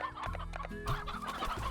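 Elder Roostro, a rooster in the video game Slime Rancher, clucking; several quick clucks close by over game music.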